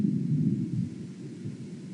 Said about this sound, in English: No fireworks, just thunder.